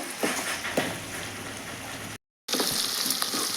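Onion pieces frying in oil for tomato dal, a steady crackling sizzle with a couple of light stirring knocks and a short silent gap midway.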